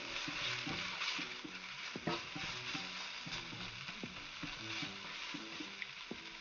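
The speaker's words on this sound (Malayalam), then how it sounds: "നമ്മുടെ ഉള്ളി കാഷ്യൂ പേസ്റ്റ് പിന്നെ വേഗം തന്നെ ഇങ്ങനെ ഇളക്കി കൊടുക്കണം" Onion cashew paste stirred in a hot pan for navratan korma, a steady wet sizzle with scraping spoon strokes against the metal, close up and continuous, with faint background music.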